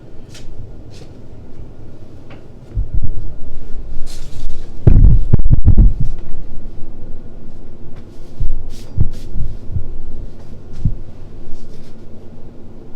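A double slab roller, set to about 3/8 inch, rolls a clay slab from both sides, giving a low rumbling hum with a few louder thumps and creaks midway, close by and with no talking.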